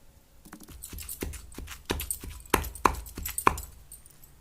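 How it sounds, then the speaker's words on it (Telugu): Sesame seeds pounded in a small stone mortar for a cucumber chutney, giving quiet, irregular knocks and taps of stone on stone, some sharper and louder than others, with no voices. "బాగా ఇట్లా దంచుకుంటున్నాము."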